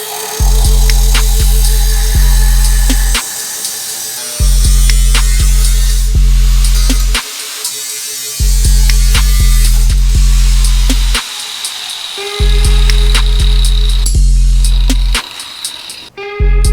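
Power tool cutting out the factory radiator brackets in the engine bay of an LS-swapped Honda Accord, a loud steady whine in repeated bursts of a few seconds each with short pauses between, no talking.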